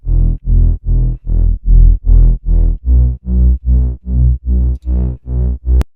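A distorted sawtooth synth bass, two unison sawtooths with low cut around 145, pulses in a steady run of about a dozen loud, buzzing notes, evenly spaced and gritty.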